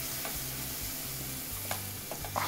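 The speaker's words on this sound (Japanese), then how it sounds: "さらにこう大葉の香りも立てながらですね炒めます" Enoki mushrooms and chopped shiso leaves stir-fry in garlic butter for a Japanese-style pasta, giving a steady close sizzle broken by a few sharp scrapes of a utensil against the pan. No one speaks.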